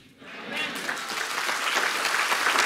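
A church congregation at a revival service breaks into dense applause that starts abruptly and holds as a steady, loud wash of many hands clapping.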